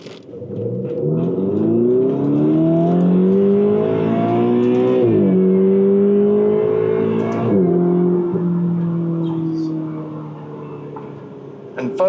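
A 2016 Ferrari 488 GTB pulls hard in third gear, its engine note climbing steadily and loudly, dipping briefly before rising again, then easing off toward the end.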